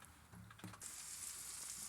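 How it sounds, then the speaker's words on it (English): Salmon sizzles steadily while cooking, a close, continuous frying hiss that swells after a brief clatter and then holds at an even level with no talking. "Hear that sizzle."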